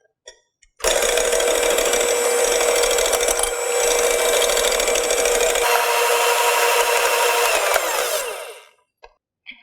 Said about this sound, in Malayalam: ഞാനിന്നിവിടെ ഒരു ഹാൻഡ് മിക്സറാണ് യൂസ് ചെയ്യുന്നത്.